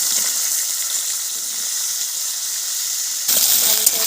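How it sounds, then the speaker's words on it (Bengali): Potato pieces frying in hot oil, a steady bright sizzling hiss close by that swells louder toward the end as the pieces are stirred or moved, with no talk over it. "আলুটা একটু হালকা ভেজে নিচ্ছি।"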